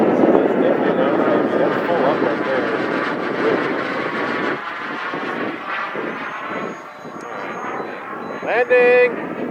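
A 3D-printed Avro Vulcan bomber model with a 1 m wingspan and an FMS 50 mm electric ducted fan flies overhead, giving a steady rushing whine that fades slightly, then a brief sharper tonal rise near the end.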